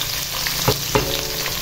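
Ingredients for sayur lombok with petai fry in a pan, a steady hiss and crackle with two brief clattering stirs as they are tossed in, close and moderately loud.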